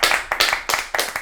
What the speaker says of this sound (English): We will all clap.